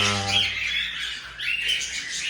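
Pet birds in cages squawk loudly and harshly nearby, a dense burst of overlapping calls lasting a couple of seconds with no talk.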